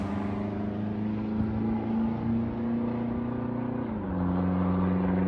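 A modified Dodge Ram pickup's engine drones steadily with a strong low harmonic hum, its pitch dipping briefly before settling again, loud and continuous with no talk over it.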